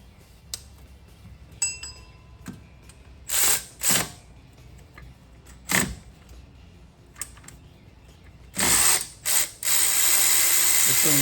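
Ratchet working a bolt on the AC compressor of a 2012 Chevy Camaro, short bursts of rapid clicking between quieter metallic handling sounds, with a long sustained ratcheting run at the end, close by.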